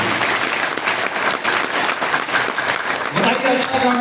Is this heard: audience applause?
yes